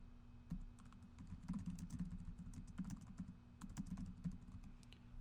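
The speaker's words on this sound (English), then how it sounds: "type any information that's important," Quiet, steady typing on a computer keyboard, a continuous run of soft close key clicks with a faint low hum behind, no voices.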